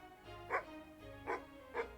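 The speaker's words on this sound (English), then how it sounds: "Did you just bark at me?" Three short, clear barks from an animal in the video game Near Mage, evenly spaced over a low steady game soundscape, fairly close and moderately loud.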